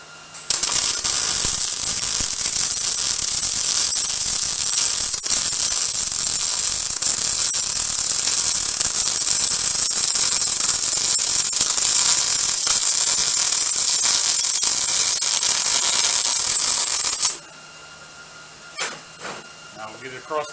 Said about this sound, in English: I'll weld along this side.